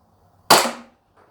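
A single sharp gas blowback shot from a G&G Piranha TR airsoft pistol, loud and close, with a short hissing decay and faint mechanical noise afterward.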